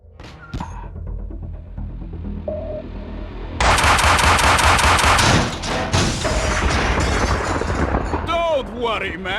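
Loud close gunfire in a Max Payne 2 cutscene: a few isolated shots, then a sustained rapid volley of bullets that gradually thins out, with some talk near the end.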